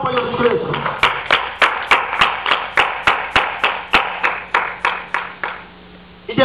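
A church congregation claps in a steady, brisk rhythm of sharp hand claps, roughly three per second, that carries on for several seconds over a background of voices or music before fading near the end.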